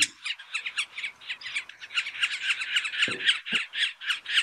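Dense chorus of bird calls, many overlapping chirps and squawks layered continuously, with a few low thumps near the end.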